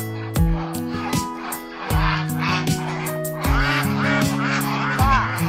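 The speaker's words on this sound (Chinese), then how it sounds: "大鹅都在那边游呢。" Free-range geese in a mountain village honk repeatedly and loudly, several birds overlapping in rhythmic, nasal bursts across a few seconds, with fainter background noise.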